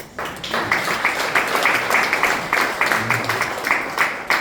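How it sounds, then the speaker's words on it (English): Audience applause at an academic brand and digital research symposium, a steady crowd clapping that swells and holds for several seconds at moderate loudness. "I just want to acknowledge and applaud the marketing team"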